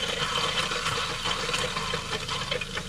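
Pink RV antifreeze flowing through the water lines and out of a tap while winterizing a Grand Design Reflection 150 Series fifth-wheel trailer: a soft, steady splashing and gurgling stream of liquid, close and continuous, without voices.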